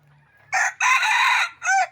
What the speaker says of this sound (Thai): นี่เสียงขันก็ประมาณนี้ครับ